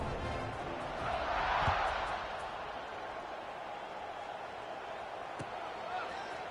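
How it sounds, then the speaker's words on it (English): A stadium crowd at an Akron versus Colorado football game keeps up a steady roar after a touchdown, swelling briefly near the start and then holding as a dense, distant wash of noise. "this crowd is buzzing after that last score"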